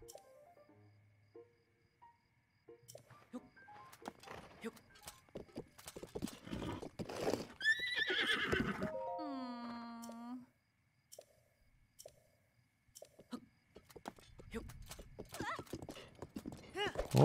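Horse hooves clip-clopping in the video game Breath of the Wild, a steady trotting rhythm through the clip with a loud horse whinny in the middle and voices talking around it.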